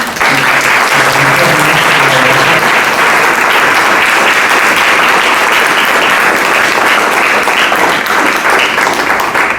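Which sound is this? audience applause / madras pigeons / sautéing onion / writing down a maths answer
audience applause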